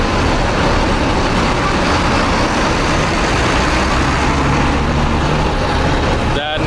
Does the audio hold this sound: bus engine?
yes